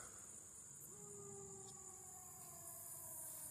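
A distant fire engine siren wails in long, gliding tones over a constant hiss of insects and quiet outdoor ambience.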